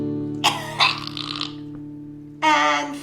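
A voice imitates a goat coughing, giving a rough, throaty hack, then a longer raspy heave. After a pause comes another loud, gravelly burst, all up close over a steady background hum.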